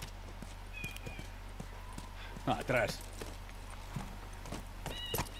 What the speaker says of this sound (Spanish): Venga, pues me voy con el caballo.